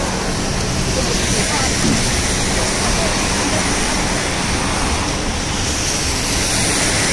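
Heavy rainwater gushing from building drainage pipes onto the street during a downpour in Sharjah, a loud, steady broadband roar of rushing water throughout.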